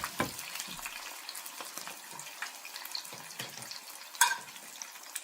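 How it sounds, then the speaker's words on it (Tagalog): Breaded shrimp (ebi fry) deep frying in hot oil for a bento, a steady close crackling sizzle with scattered pops and one sharper spatter near the end. "Fry it. Deep fried guys, ha?"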